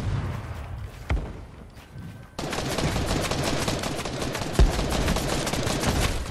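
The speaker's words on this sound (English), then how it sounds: "Getting shot at hard?" Heavy gunfire in a video game: a couple of isolated shots, then a sustained dense barrage of rapid automatic fire with a sharp louder crack near the end.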